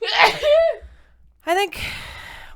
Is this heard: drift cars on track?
no